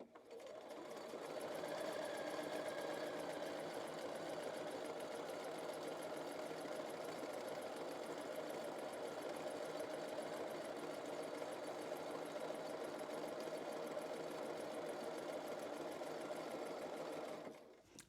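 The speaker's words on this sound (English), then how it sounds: "I'm just going to be sewing at my usual stitch length," A sewing machine stitches a princess seam on a garment panel at a 2.5 stitch length, 1/8 inch from the edge, running steadily and close for about seventeen seconds with no talk.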